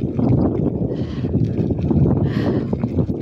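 Steady, broadband wind rumble buffets the microphone throughout, loud and continuous, with faint hiss in the upper range and no voices.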